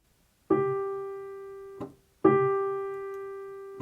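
Two sustained piano notes, each struck and held for about two beats as it slowly decays, played one after the other.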